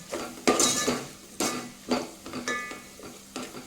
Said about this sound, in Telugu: ఇప్పుడే సాల్ట్ యాడ్ చేశాక మనం ఒకసారి ఈవెన్గా కలుపుకోవాలి.